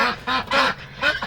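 Ducks in an insulated winter coop bedded with pine shavings give several loud, close honking quacks in quick bursts, with no other sound between the calls.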